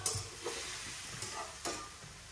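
Chili peppers stir-fried in a wok give a soft sizzle, broken by several scraping clacks of a spatula against the metal, fairly quiet with no talking.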